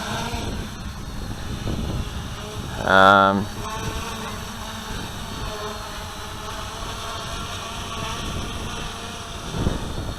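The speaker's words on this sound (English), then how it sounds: "So I've just armed it, and so this is now running APC props, and this is in stabalize mode." Motors of a Q450 quadcopter with APC propellers, armed in ArduCopter stabilize mode, give a buzzing drone under steady wind noise, with a louder whining burst near the start and a brief swell near the end.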